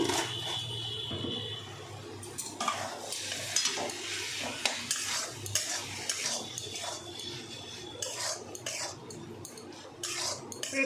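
Leafy saag greens sizzle in a pan while a utensil stirs and scrapes, giving a steady close frying hiss with repeated metallic clinks and no speech.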